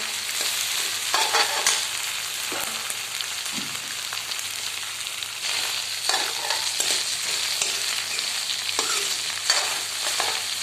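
Okra fries in a pan with a steady, bright sizzle, broken by occasional scraping stirs, with no talking.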